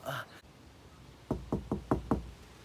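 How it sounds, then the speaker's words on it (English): Five hard knocks on a door in quick, even succession, close and loud after a brief burst of sound and a quiet pause. "Who knocks so hard?"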